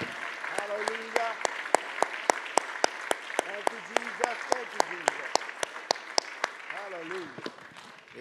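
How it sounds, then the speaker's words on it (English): A church congregation claps hands in praise, sharp rhythmic clapping with a regular beat, moderately close, while voices talk and call out over it throughout. "Let's give the Lord a hand clap of praise."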